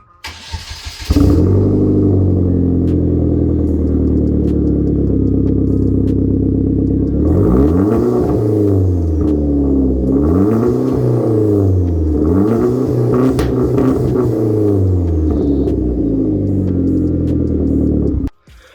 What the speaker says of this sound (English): so that was revving before the install of the test pipe